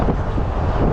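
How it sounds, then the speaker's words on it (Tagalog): Steady wind buffeting a microphone, a continuous low rumbling roar with no letup for the whole second. "Pero hindi siya masyadong malamig."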